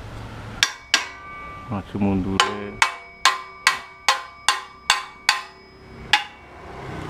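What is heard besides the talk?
hammering while assembling a CB antenna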